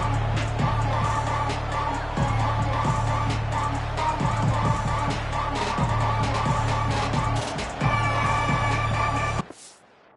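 A packed stadium crowd at a Syracuse versus Ohio State college football game roars steadily at kickoff, a dense, continuous wall of noise that holds for about nine seconds before cutting off abruptly.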